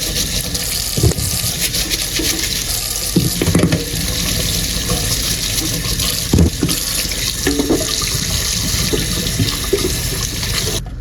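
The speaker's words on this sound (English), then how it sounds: "First things first, wash everything really well." Beets fresh from the soil scrubbed under a running kitchen tap, a loud steady gush of water into the sink with occasional thumps and splashes of handling.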